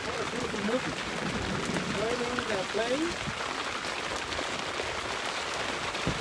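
Steady rain patters on surfaces during an African safari game drive, a constant close hiss with faint voices briefly mixed in.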